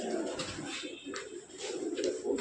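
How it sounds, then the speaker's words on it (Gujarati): Pigeons at an animal welfare shelter in Surat coo softly in soft, repeated, burbling calls that blend into a busy, faint background hum. "કબૂતરા છે ભેટું બધું"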